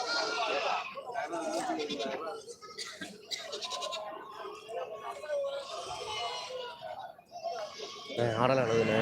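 Goats bleat repeatedly at a busy livestock market in Samayapuram, their calls close and loud, mixed with people talking and bargaining throughout.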